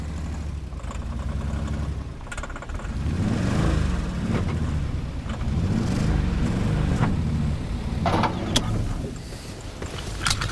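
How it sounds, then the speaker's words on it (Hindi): A car engine in trouble, a low rough rumble that rises and falls unevenly over several seconds, close and steady, with faint clatters and no voices heard. "रेहान, मीरान, गाड़ी को क्या हो रहा है?"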